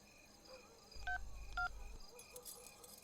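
A phone keypad is dialed, giving two short, clear electronic tone beeps about half a second apart, faint over a quiet background hum.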